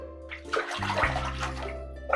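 Hot water gushes steadily from a tap into a basin for washing freshly knitted long wool socks, swelling into a fuller rush partway through, with no voices.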